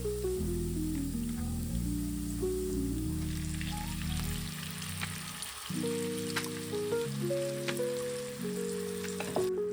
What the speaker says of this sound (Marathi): आता मी यात टाकणार आहे चिरून घेतलेली मेथी